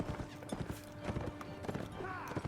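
Horse hooves clip-clop rapidly in the medieval combat game Mount and Blade, a steady galloping patter mixed with battle noise and people talking over it.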